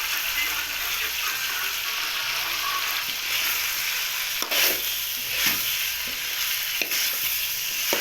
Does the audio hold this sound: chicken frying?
yes